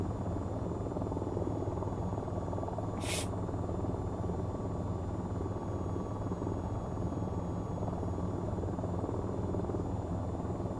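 AH-94 helicopter in the VTOL VR flight game, a steady loud rotor and turbine drone that holds constant throughout, with one brief hiss of a control sound partway through and no talk.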